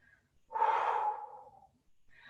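One heavy, audible exhale during a pause to recover in a home resistance workout, close and clear, followed by a quieter breath.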